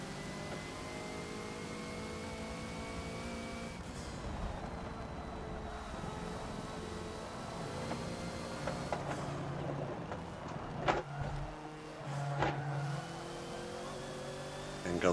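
A Hoonigan Ford Focus racing around the Prague Short Track in Forza, its engine droning steadily with rising and falling pitch through gear shifts and several sharp changes in revs.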